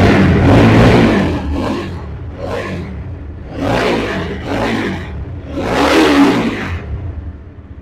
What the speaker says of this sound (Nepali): पहिला तपाईले बाइकको साउन्ड सुन्नुस् कस्तो छ